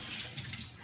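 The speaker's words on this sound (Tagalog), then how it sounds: "ito yung lababo. Ito yung gripo." Water runs from a kitchen sink faucet as a steady, soft hiss, heard alone for under a second.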